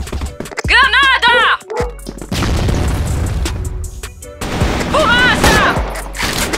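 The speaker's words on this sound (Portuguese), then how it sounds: "Granada!" Explosions and bursts of gunfire ring out in the CrossFire shooter game, loud booming blasts mixed with rapid shots, interrupted by short synthetic sound effects and chaotic battle noise.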